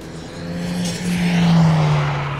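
A 1971 Plymouth Road Runner drives past with a loud, rising engine drone that swells as it nears and then eases off, outdoors in a parking lot.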